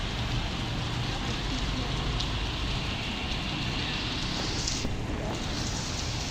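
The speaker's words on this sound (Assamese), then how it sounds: "বৰষুণ দি আছে যে এইফালে পানী পানী হৈ গৈছে গৈ" Steady rain falls outdoors beside a main road where vehicles pass, a dense, even hiss filling the scene throughout with a faint voice underneath.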